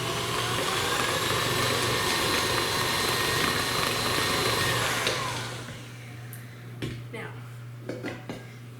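Electric mixer whirring in a bowl, blending drops of orange coloring into frosting, a loud steady drone for about five seconds before it switches off, leaving faint clinks.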